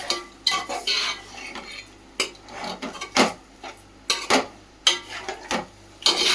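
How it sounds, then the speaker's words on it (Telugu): A spoon stirs Andhra-style gongura chicken curry with spices in a pan, making repeated close scraping and clinking strokes against the metal with a light sizzle underneath. "ఒకసారి కలుపుకుందాం"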